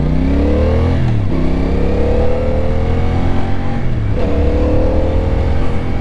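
A 2024 CFMOTO 450CL-C motorcycle accelerating and decelerating through its gears during a combined-braking test ride, engine pitch repeatedly climbing and dropping, loud and close throughout.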